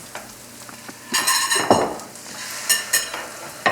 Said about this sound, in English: We should scoop up a little bit of that bacon grease. Bacon grease. Throw it in the egg pan.